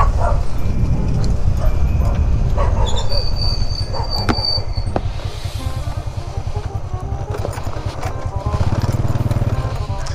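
Dogs bark repeatedly at night in a rural Vietnamese village, loud and close, over steady rhythmic clatter and chatter from people walking out to hunt termite mushrooms.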